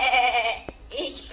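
A goat in a German radio-play fairy tale bleats in a long, wavering, nasal cry, close and loud, then a brief pause and a shorter second bleat.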